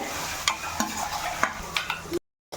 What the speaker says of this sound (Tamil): கொஞ்சம் இஞ்சி பூண்டு பேஸ்ட் போடுவோம் இது நல்லா கிண்டி விட்டுக்கலாம்